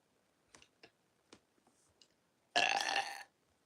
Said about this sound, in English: Yeah, you burped.